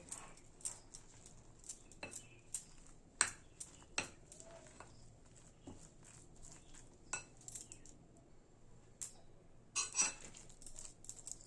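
Gram flour is being worked into chopped vegetables in a bowl: faint, scattered clinks and scrapes of a spoon against the dish, quiet and intermittent.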